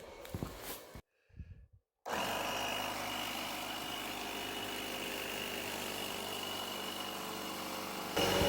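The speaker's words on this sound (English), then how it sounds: "Sounded like the air compressor didn't like to turn on." A small air compressor on an off-grid homestead, struggling in about 21-degree cold, sputters briefly, cuts out, then kicks on into a steady droning run that continues to the end, moderately loud.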